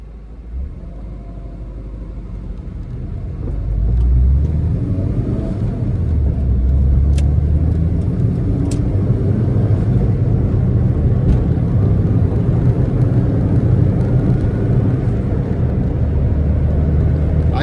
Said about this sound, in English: so that you can hear the engine noise, how the car responds through the gears